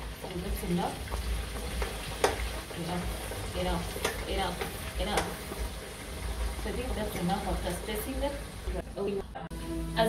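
Potato wedges fry in hot oil with a steady, loud sizzle and crackle, heard up close for the whole stretch, with faint background noise.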